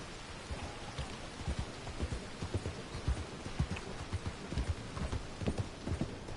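Steady hoof clip-clops from a horse at a walking pace in Red Dead Redemption 2, with a soft patter like rain in the background; no talking.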